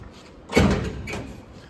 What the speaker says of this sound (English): The driver's side door, I did. Right now, it's latched,